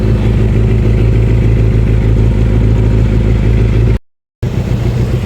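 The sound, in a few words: Suzuki Impulse 400cc motorcycle engine idling after carb tuning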